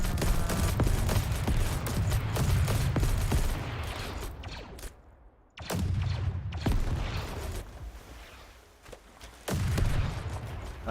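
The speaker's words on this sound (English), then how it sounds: "Calling in an airstrike." An airstrike in the Call To Arms video game, with heavy rumbling blasts and crackling explosions that swell loudly, drop off into a brief lull, then erupt again in repeated booming waves.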